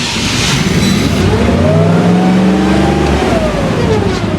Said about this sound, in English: An Olympia differs from a Zamboni as it is run by a Vortex V6, most likely. So it sounds pretty good.